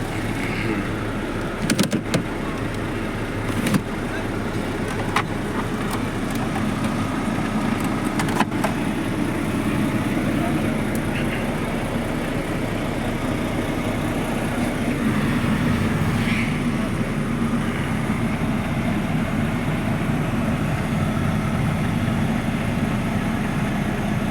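A truck engine idles steadily in Sharjah, a constant low rumble that runs throughout with a few sharp clicks early on.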